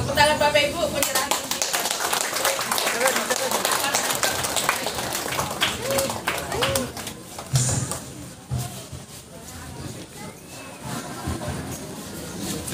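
A church congregation claps at a blessing ceremony, the applause rising and thinning in uneven bursts while voices talk over it throughout.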